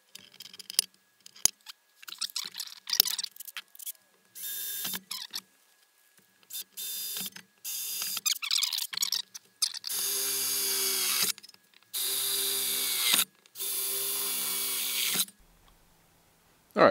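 Metal is cut to make holes in a Vox AC30 amplifier chassis. Bursts of tool noise stop and start, building to three long, loud, steady grinding passes near the end, with no voices.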